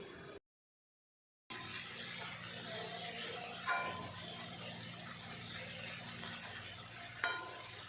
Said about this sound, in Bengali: যত সময় কাঁচা গন্ধ না যায় তত সময় আমি নেড়ে চেড়ে ভেজে নেব